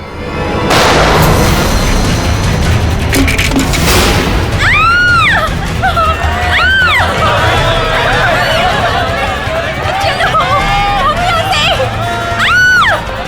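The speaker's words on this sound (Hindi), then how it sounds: "गोली चलने की आवाज कहाँ से आई?" A couple of sharp, loud bangs burst out over a noisy crowd, followed by repeated swooping, whooping tones and continuing commotion.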